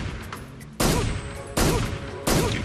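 Enemy soldier's gunfire in Metal Gear Solid 3, three loud separate bursts of shots spaced under a second apart over low game ambience.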